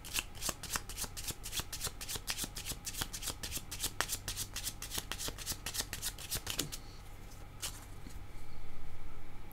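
A deck of tarot cards is shuffled up close in a quick, steady run of crisp riffling flicks for several seconds, then slows to a few softer card sounds and a brief rustle.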